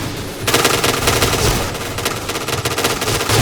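Sustained rapid automatic fire from the F-2000 rifle in the video game Point Blank, loud and close, beginning after a brief quiet moment and continuing in dense bursts to the end.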